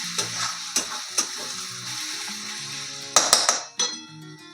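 Spiced masala frying in a pan for Bengali chicken curry, a steady close sizzle with repeated clinks and scrapes of a spoon stirring against the metal, louder clatter near the end.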